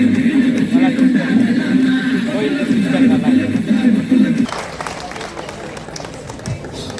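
Audience applause and crowd noise at a Pongal celebration held by Tamil Christians at St. Joseph's Church in Pune, a dense wash of clapping and babble at first that thins out after about four seconds.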